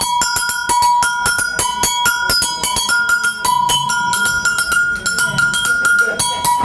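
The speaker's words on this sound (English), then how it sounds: "Brazil they call it agogo. And basically combines the low and pitch and high pitch." An agogo double bell, pairing a low and a high pitched bell, struck in a quick steady rhythm, loud and close with bright ringing metallic clanks.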